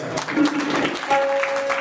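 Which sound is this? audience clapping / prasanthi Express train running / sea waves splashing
audience clapping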